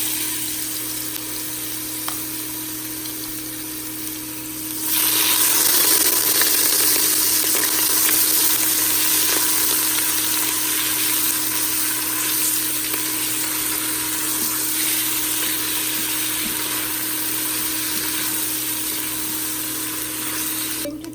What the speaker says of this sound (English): I'm going to add my eggs. I'm going to fry them and then take it out.